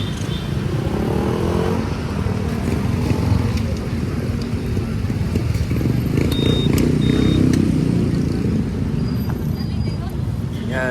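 A motorcycle engine drones steadily close by at road speed, a dense low rumble mixed with wind rush that holds for the whole stretch, with faint thin whines above it.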